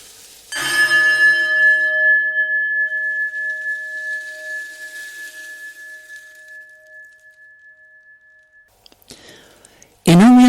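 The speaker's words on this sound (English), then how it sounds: "I've used the traditional bells, 1 bell to start practice and 3 bells to end." A traditional meditation bell is struck once to open practice, ringing out with a clear sustained tone that slowly fades over several seconds in a quiet room.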